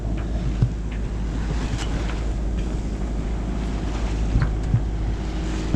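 Sailboat Williwaw motoring under engine in light wind past container ships, a steady low engine drone with water wash and wind buffeting the microphone, continuous and fairly close.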